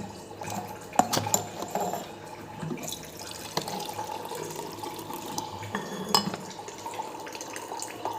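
Water runs from an alkaline water purifier into a vessel in a steady, close trickle, with a few light knocks and clinks from the container.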